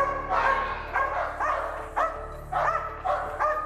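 A prison training dog barks repeatedly at a person agitating it, sharp loud barks in quick bursts with short pauses, close by and without talk.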